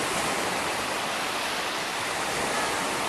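Running water rinses sand off a boy's sandals at a water park, a loud, steady, broadband rush like a hose or shower spray that holds unbroken throughout with no voices.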